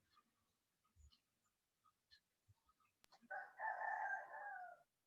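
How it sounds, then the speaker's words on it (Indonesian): A rooster crows once, loud and close, after a stretch of faint scattered clucks and small noises. "Ayam yang menjawab tadi tuh ayam."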